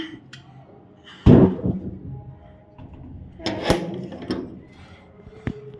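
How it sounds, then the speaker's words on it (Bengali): A sharp wooden thud of a door shutting, followed by a second knock-like impact a couple of seconds later amid faint room noise. "দরজা বন্ধ করে দিলাম।"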